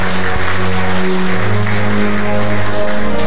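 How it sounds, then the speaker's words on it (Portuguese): Church congregation at a worship service clapping, a loud, dense, continuous applause filling the space throughout, with a sustained low organ-like tone underneath. "Dê uma salva de palmas ao Senhor Jesus."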